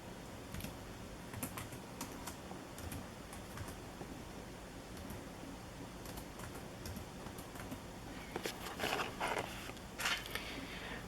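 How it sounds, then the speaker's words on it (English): Quiet clicking of computer keys runs in irregular bursts, faint and close, with a denser flurry of keystrokes toward the end. "I'm going to type that in"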